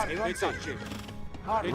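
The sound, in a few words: horse neighing and dying in video game Age of Empires 2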